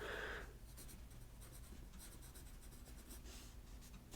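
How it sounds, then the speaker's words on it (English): A pencil scratches across paper while a murder-mystery logic puzzle is filled in, soft close strokes and small scribbles repeating in short bursts, quiet and alone. "I'm just going to pencil that in now."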